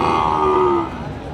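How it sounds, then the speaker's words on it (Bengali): A cow lets out a loud, close moo that swells and then trails off at a cattle market near a border area where Shahiwal bull calves are sold, with faint market murmur underneath. "অসংখ্য পরিমাণ জাতমান কোয়ালিটির গরুগুলি হাটে সব সময় উঠে থাকে"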